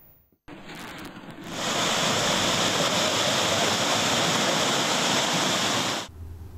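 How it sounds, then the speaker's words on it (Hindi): Loud, steady roar of a flood torrent rushing through Swat, its broadband surge swelling after a brief quiet start, holding constant for several seconds, then cutting off. "मैंगोरा, मंगलोर, मट्टा, कोकारई में सैलाबी रेला सब कुछ बहा कर ले गया।"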